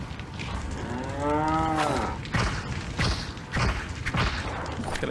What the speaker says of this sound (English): Can I kill the cow?